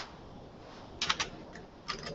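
A few quick bursts of keystrokes on a computer keyboard while editing HTML code, faint and close with short pauses between clusters over a low steady room hiss.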